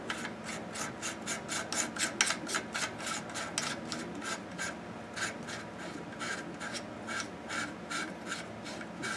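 Barrel lug being screwed onto an AR-15 flat top receiver, giving a steady run of fast, rhythmic scraping and rasping metal strokes, close and fairly quiet, with no talk.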